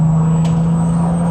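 A Nissan Skyline R32 GTR's turbocharged engine holds a steady, loud mechanical drone with a thin high whine running throughout, close and unbroken, with no talking.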